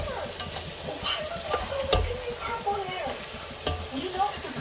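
Onion and garlic frying in a pan while being stirred, a soft sizzle beneath irregular scrapes and knocks of the utensil, with faint voices in the background.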